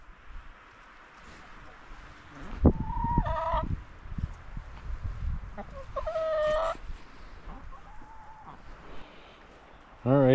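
Chickens cluck and squawk in bursts at close range, with scratching and rustling underneath and a few higher calls mixed in.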